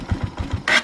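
A motorcycle engine turning over again after its idle was set too low: four quick low cranking pulses, then a brief loud rasping catch as it fires, close up with no talk.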